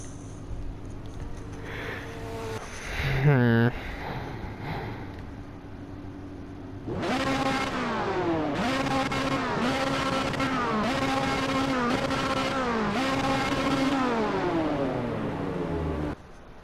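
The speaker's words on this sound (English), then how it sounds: "The Audi's starting." An Audi R8 and a Ferrari race on a road course in the Hot Wheels video game: a lone engine whine sweeps upward, then from midway loud, layered engine tones rise and drop again and again through shifts, steady and close.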